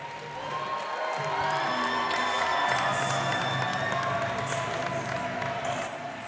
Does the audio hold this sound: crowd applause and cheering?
yes